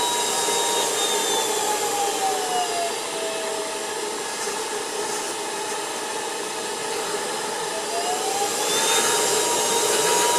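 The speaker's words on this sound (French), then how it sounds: "Vous entendez le moteur qui accélère." Ultenic U10 cordless vacuum cleaner running with a loud, steady motor whine and airflow hiss, the pitch gliding up as the motor accelerates, then easing back and rising again near the end.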